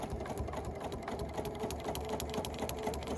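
A sewing machine stitches a straight seam through a bulky Mariner's Compass quilt block from a 1930s-style sampler, giving a steady, fast mechanical whirring hum with a rhythmic needle pulse, close and continuous.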